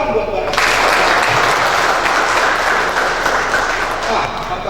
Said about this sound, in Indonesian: Tepuk tangan buat barat.